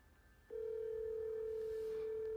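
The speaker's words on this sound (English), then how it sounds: "listen to where this phone number goes to when you call this childcare center" A telephone call to a childcare center's number: after a half second of faint line hiss, a steady, loud, unbroken telephone tone starts and holds to the end.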